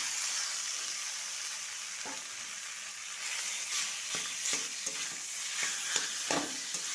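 Boiled papaya being stirred in a hot pan with oil and ginger paste, a steady bright sizzle running throughout, with scraping strokes of a spatula growing more frequent toward the end.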